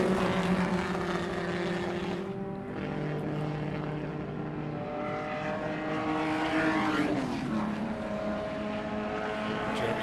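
Historic race cars, among them a Mark III Escort, pass at a classic race meeting, engines droning loudly with shifting pitch as several cars sweep by in succession.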